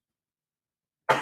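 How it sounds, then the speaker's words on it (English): After near silence, a person with a lingering, unusual cough lets out a single brief, close cough right at the end. "this cough is sneaking up on me."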